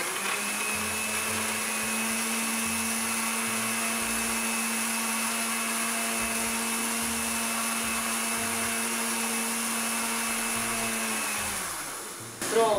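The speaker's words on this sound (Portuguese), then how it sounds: "E aqui eu vou dar uma batida para triturar o alho e misturar" An electric blender grinds garlic for homemade garlic cream bread with a loud, steady high whine for about eleven seconds, then spins down as the motor cuts off, ending with a brief clunk.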